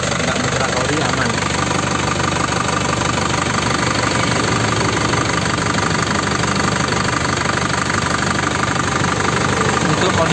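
A 2014 Isuzu Panther Grand Touring engine idles steadily and close, a continuous mechanical rumble with a faint knocking texture that holds evenly throughout.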